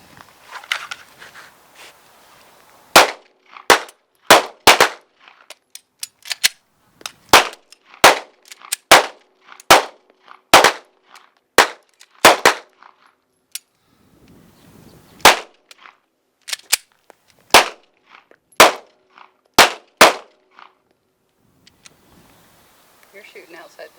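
Pistol gunshots ring out during a defensive shooting drill: sharp, loud reports fired in quick pairs and short strings, with pauses between volleys and faint movement and voices in the gaps.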